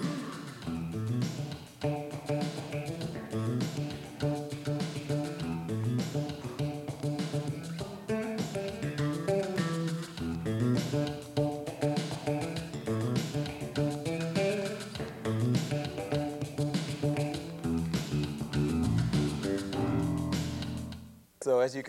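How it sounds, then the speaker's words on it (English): Bass guitar played with the fingers in a busy, guitar-like part of melodic phrases and chords, steady and up close throughout, alone with no talking. "Another approach is to play a more guitaristic kind of part"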